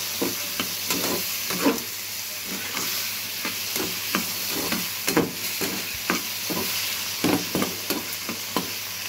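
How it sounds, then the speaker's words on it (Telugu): Cucumber pieces being stirred in a frying pan with turmeric, a steady soft sizzle broken by repeated scraping strokes of the spoon, close and moderately quiet. "ఇప్పుడు కీర ముక్కలు వేసేస్తాం. వేసి ఇలా కలిపేద్దాం."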